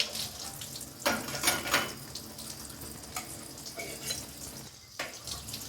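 Water splashing and trickling over dishes on a drying rack, a steady close patter with a few louder gushes, no voices.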